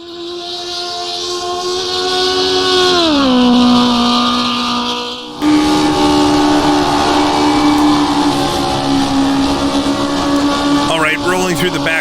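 A 1970s Formula One car with a Cosworth engine in the rFactor 2 racing game: a loud, high engine whine that holds, then drops through a gear change before climbing again.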